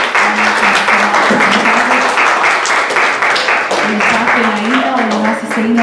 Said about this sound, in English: Mothers, can we just give them a round of applause again?